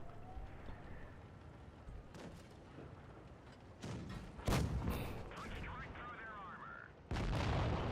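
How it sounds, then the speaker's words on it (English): Tank destroyer cannon shots in World of Tanks Blitz ring out as several sharp booming blasts over a steady engine rumble, with a heavy impact midway and louder rumbling at the close, and someone talking over the battle. "I'm gonna take a hit. Oh, it's just bad. Both TD shots"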